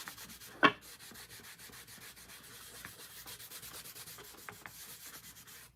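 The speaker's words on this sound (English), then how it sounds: "now take the other side and wax it off" Steady close rubbing as wax is worked by hand across a decorated bunny tier tray, a soft continuous scrubbing texture with one sharp knock near the start and a few light taps.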